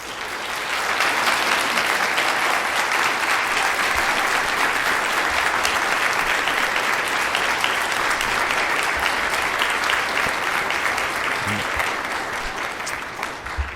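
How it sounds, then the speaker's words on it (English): Sustained applause from a large crowd, steady and dense clapping that continues throughout without pause. "face the audience for a round of applause"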